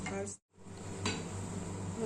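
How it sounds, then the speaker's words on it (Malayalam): Chopped cucumber with salt is stirred in a pan, a spoon scraping and clattering against the metal in a short burst with a brief pause. "ഉപ്പിട്ടിട്ട് വേണം ഇവിടെ ഇളക്കാൻ"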